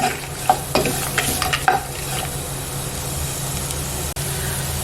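Bitter gourd sautéing in a pan for a curd curry: a steady close sizzle runs throughout, broken by several scraping stirs near the start, with no voices.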